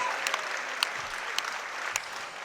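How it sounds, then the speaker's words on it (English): Arena crowd applauding after a professional women's mixed martial arts title bout, continuous clapping with a few sharp louder claps and whoops cutting through at intervals. "can we give both of these tenacious young ladies a massive round of applause?"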